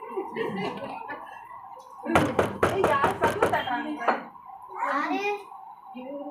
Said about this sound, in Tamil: யாரு யாரு யாரு யாரு தட்டுறது?